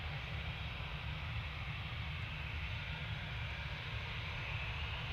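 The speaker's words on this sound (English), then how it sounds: "Behind the Finnair is the gorgeous KLM A321 Neo, just touching down from Amsterdam." A KLM Airbus A321neo lands at Manchester Airport, heard as a steady, fairly distant roar of jet engines with a low rumbling undertone and no clear peaks.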